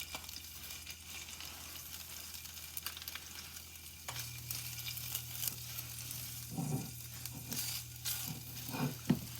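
Homemade dog food for a Yorkie frying in oil in a pan, giving a soft continuous sizzle that grows a little louder midway, with occasional stirring scrapes and crackles.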